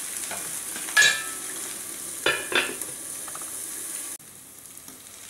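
Rice cooked with marinated pepper and black pepper is stirred in a pot, a steady low sizzle with a few distinct scraping clinks of the spoon against the metal, no voices.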